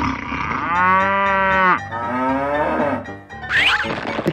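A cow moos loudly and close in a guess-the-animal escape room challenge game, two long droning calls followed by a shorter rising one, with no talk over them.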